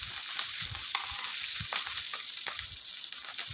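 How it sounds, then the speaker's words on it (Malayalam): Slit green chillies sautéing in hot oil with mustard seeds and curry leaves, a close, soft sizzle with brief popping spatters and stirring scrapes, continuous and without talk. "എല്ലാ മുളകിനും നടുക്കൊന്ന് പൊളിച്ച് ഞാൻ ഇട്ട് കൊടുക്കുന്നത് അത് നല്ലോണം വഴച്ചെടുക്കുക"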